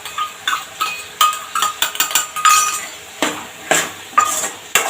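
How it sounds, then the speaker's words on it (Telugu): A spoon scrapes and clatters against a pan as ground paste and ketchup are stirred and fried for pasta, the rhythmic metallic strokes close and loud over a faint sizzle. "ఇది పచ్చివాసన పోయేదాకా వేపుకోవాలండి బాగా"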